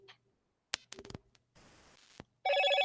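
A telephone rings in a morning radio talk-show studio. A few soft clicks and handling noises come first, then a loud electronic ring starts near the end, close and clear.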